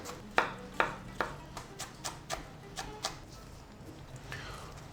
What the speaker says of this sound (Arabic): بلشنا بفرم البندورة كمان بدنا نفرمها ناعمة ناعمة